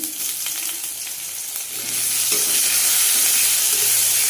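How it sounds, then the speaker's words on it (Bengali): Loud sizzling of ginger and garlic frying in hot oil after onions, swelling and staying strong, with a brief stirring scrape partway through. "পেঁয়াজ ভাজা হয়ে গেছে খেতে পারা আদা রসুন দিয়ে দেবো"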